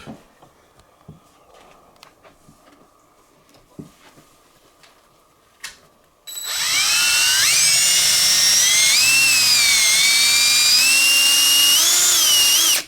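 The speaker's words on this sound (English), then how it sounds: "it's time to drill that hole for the chip" Quiet clicking and tapping, then a small high-speed drill whines loudly and continuously, its pitch wavering as it bites into a Carrera Digital 124 model car body, drilling a hole for a chip.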